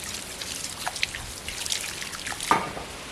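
Water poured over M-sand filling the gaps between newly laid paving stones along a temple path, heard as scattered close drips and trickles over a soft watery hiss.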